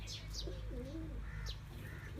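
A breeder pair of pigeons coos close by in a short warbling run, with a couple of high chirps and a steady low hum beneath.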